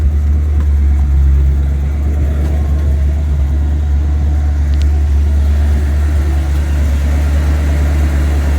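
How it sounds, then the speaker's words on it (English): An MGB car engine idling too high, a loud, steady low drone with a faint higher engine whine, running evenly and close by with no voices. "That is idling way too high at the moment."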